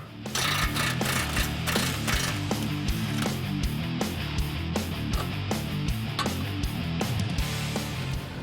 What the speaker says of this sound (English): Remove the 21mm nut on the outer tie rod.